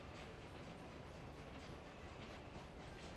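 An electric train runs in the city-building game Workers & Resources: Soviet Republic, producing a faint, continuous rumble with soft rhythmic wheel clatter, steady and unbroken, with no voices.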